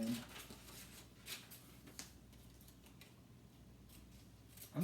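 Scissors snipping small strips of paper close up, faint quiet cuts spaced irregularly, with soft talking.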